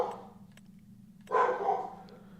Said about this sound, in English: Sorry again about the background noise of the dog.